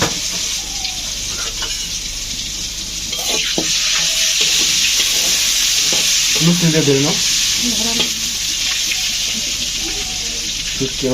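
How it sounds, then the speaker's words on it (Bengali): Mixed dried fish fries in hot oil with a loud, steady sizzle and crackle close by, while someone stirs and a voice briefly speaks over it. "এখন গরম তেলে ছেড়ে দেওয়া হয়েছে মিশ্রিত শুটকিটা"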